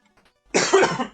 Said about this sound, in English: That's just a cough of pain.